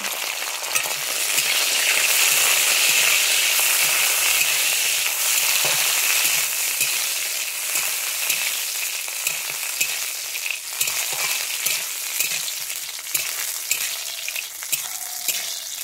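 Soaked raisins dropped into cashews frying in hot oil for Bengali basanti pulao, producing a loud continuous sizzle and crackle with faint stirring, no voices.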